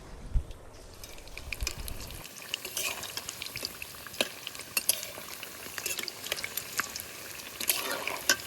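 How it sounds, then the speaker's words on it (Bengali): Fish dipped in gram flour batter sizzles and crackles in hot oil, a steady low frying hiss with scattered pops and small utensil clicks, close and fairly quiet, with no talking. "এবার একটা করে মাছ নিমো আর বেসনের ব্যাটারের মধ্যে ডুবামো, আর একটা করে মাছ হচ্ছে তেলের মধ্যে ছাড়িমো।"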